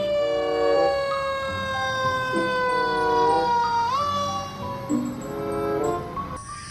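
A toy fire truck plays an electronic siren tone that holds steady and then sweeps upward near the middle. It is loud and close, with clattering handling noises of other toy vehicles beneath it.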